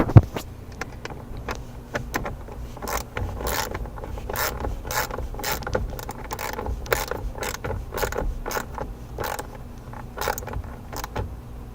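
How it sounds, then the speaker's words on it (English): A hand ratchet tightens a bolt on a car, giving quick runs of sharp metallic clicks in steady bursts, close and distinct with no talking. "now I'll put the ratchet on."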